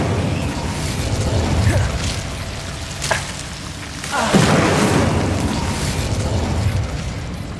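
Incendio fire spell cast in the Hogwarts Legacy video game inside a goblin mine, heard as a sudden whooshing burst of flame with a booming crackle over a busy game soundscape, followed by a second rushing surge.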